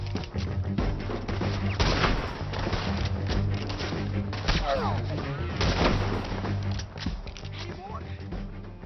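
Rifle shots ring out in Red Dead Redemption 2 during a gang shootout, loud cracks scattered through the scene under near-constant talk and game music.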